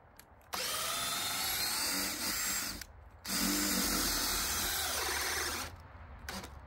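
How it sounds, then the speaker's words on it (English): An underpowered electric drill with no reversing power whirs loudly in two long bursts with a short pause between, then a quieter run, close up with no talking. "It's got zero reversing power, this drill."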